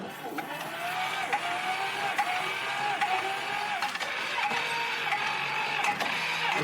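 A dumper's small diesel engine, just started after its glow plug warmed, revs steadily with a buzzing mechanical drone that rises and falls slightly, loud and continuous throughout.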